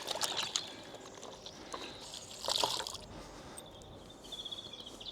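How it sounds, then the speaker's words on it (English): A microfiber cloth being rinsed in water during steering wheel cleaning gives soft splashing and dripping, with a few brighter sloshes and a light trickle. The sound is quiet and close, with no talking. "rinse off your cloth"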